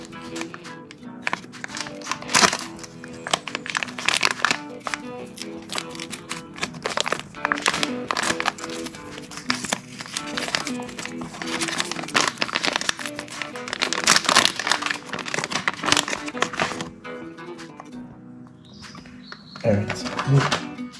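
The plastic packaging of a Vamson silicone sleeve for a GoPro Hero 9-10 is torn open and handled, giving dense crinkling and rustling with sharp taps and crackles, close to the microphone, until it thins out near the end.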